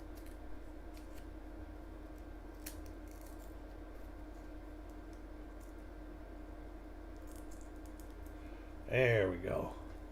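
Paper wrapper on an original bank-wrapped roll of 2020-P coins torn open near the end, a brief close crinkling rip after a quiet stretch with faint room noise.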